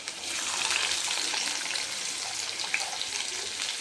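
Chopped onion dropped into hot oil for an Andhra-style chicken curry, a bright, steady sizzle that swells briefly and then holds with small crackles, no talking.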